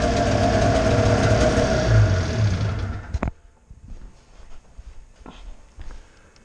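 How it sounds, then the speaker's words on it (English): An Arctic Cat EFI snowmobile engine running loud and steady for about three seconds, then cutting off abruptly, leaving faint clicks and low rumble afterward. "and the bike runs."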